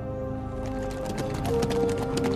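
Stolen horses galloping in a dramatized historical scene of fleeing monks, a steady clip-clop of hooves layered over a dense musical score, with a sustained tone swelling near the end.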